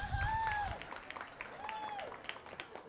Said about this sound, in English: Single people, clap your hands.